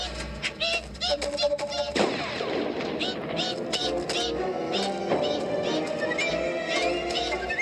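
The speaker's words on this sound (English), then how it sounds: "two loud gunshots can be heard from the ground below" Two sharp, loud gunshots ring out a few seconds apart, each followed by a ringing echo, with brief background sounds in between.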